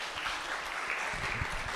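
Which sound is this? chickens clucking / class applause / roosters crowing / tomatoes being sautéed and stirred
class applause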